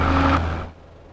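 An Ercoupe light airplane's engine drones loud and steady at departure from runway 16 at Seeley Lake, then fades quickly into the distance within about a second.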